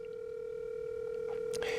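A telephone dial tone hums steadily and faintly on the line, and a few short clicks and a brief burst follow at the end, with no voices.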